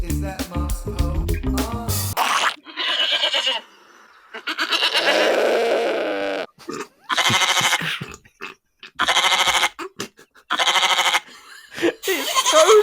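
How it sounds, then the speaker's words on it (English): Rapid bursts of sheep bleating from a glitching soundboard repeat in quick succession, stopping and restarting abruptly in a mechanical, stuttering pattern, loud and close. "That sounds like a sheep machine gun."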